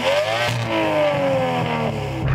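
An Aston Martin V12 Vantage engine revs loud and close, a continuous deep roar with rising and falling pitch over a couple of seconds, with no talking.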